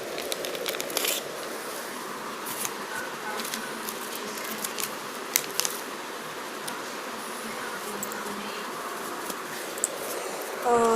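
A 100-rupee pack of Cricket Attax trading cards is torn open and handled up close, with quiet crinkling wrapper rustles and papery card-flicking bursts coming in irregular clusters.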